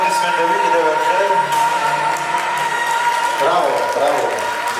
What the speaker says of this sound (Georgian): ხურვალი აპლოდისმენტები კიდევ ერთხელ.